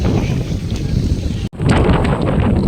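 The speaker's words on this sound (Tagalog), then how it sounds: "Lakas ng hangin guys, so naririnig nyo ba?" Heavy seaside wind on Legazpi Boulevard buffets the microphone in a loud, continuous low roar, briefly cutting out once before rushing back.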